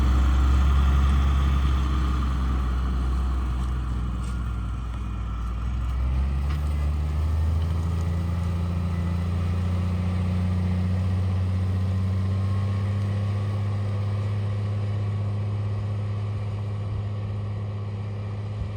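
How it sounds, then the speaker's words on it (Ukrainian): A heavy tractor engine drones continuously nearby, its low rumble shifting in pitch as it labors under load pulling a five-bottom plow through wet soil. "Подивимося, як буде працювати трактор, тому що земля волога"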